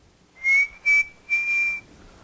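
A whistle blown at about 1 kilohertz during an acoustics lecture: three clear, steady toots, two short then one longer, sounding alone and close with no talk over them.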